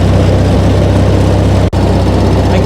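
A tractor engine drones steadily and loudly while mowing grass for the first cut of the year, with a brief dropout near the middle before the low rumble resumes unchanged.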